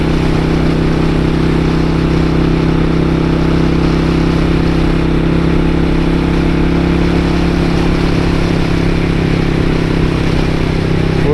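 A 1999 Suzuki Intruder 800 motorcycle engine drones steadily and loudly, a constant low rumble under heavy wind buffeting as the bike runs along the road, with no talking.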